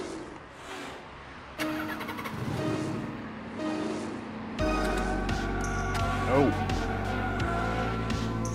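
Racing car engine in the Slipstream video game, set to automatic drifting, revving and droning with shifting pitch over loud music, with a voice talking over it.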